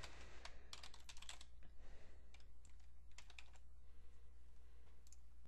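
A name typed on a computer keyboard, quick irregular key clicks in short runs over a low steady hum, close and fairly quiet.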